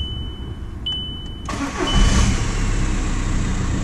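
A 2006 VW Golf 1.9 TDI diesel with a BKC engine cranks briefly and fires on the first try, settling into a loud, steady idle after a faint electronic whine and clicks.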